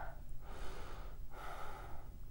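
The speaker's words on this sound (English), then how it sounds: "Now this is me breathing exclusively through my nose." Slow, audible breathing through the nose only, with two soft drawn breaths close to the microphone over a low background hum.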